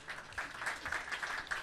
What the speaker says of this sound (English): That's where you applaud.